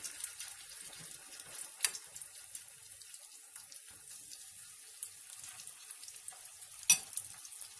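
Chicken drumsticks fry in hot oil, a soft steady sizzle with occasional sharper pops and crackles, close and fairly quiet, with no talking.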